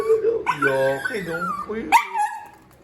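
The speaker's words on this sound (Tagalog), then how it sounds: "ito pala yung iyakin kong aso" A crying dog whines in long, wavering high-pitched cries, close by and fairly loud, in two drawn-out bursts, with a voice speaking over part of it.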